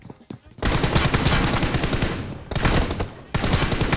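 Rapid bursts of automatic gunfire in the mobile battle royale game PUBG Mobile, loud and close, with dense sustained volleys broken by brief pauses.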